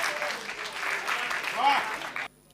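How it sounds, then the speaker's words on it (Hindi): A Hindi poetry recital audience applauds to welcome a poet on stage, a steady burst of clapping that holds for about two seconds and then cuts off abruptly. "जोरदार ताली स्वागत करिए विनीत भारद्वाज जी का।"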